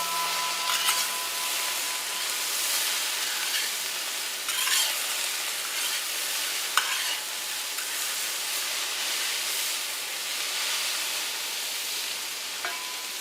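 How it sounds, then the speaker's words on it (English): Onions and potatoes seasoned with garlic salt frying in a pan, a steady broad sizzle with occasional stirring scrapes, close and unbroken for the whole stretch. "We'll add some garlic salt to the onions and potatoes. We'll just stir this in."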